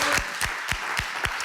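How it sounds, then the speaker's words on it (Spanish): A church congregation claps together in an even rhythm of about five loud, sharp claps in quick succession over a steady bed of applause noise. "Den un fuerte aplauso al Señor."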